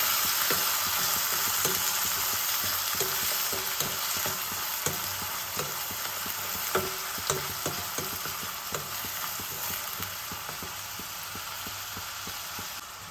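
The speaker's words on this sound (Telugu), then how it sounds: "వేగబెట్టాం ఉల్లిపాయలు" Onions fry in a hot pan, a loud continuous sizzle close by, while a spoon stirs and scrapes in a steady rhythm of repeated clicks and knocks, with no voices.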